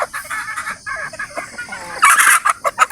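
Native chickens kept in a small backyard pen cluck repeatedly in short, busy bursts, with louder, denser calls near the end and no talking.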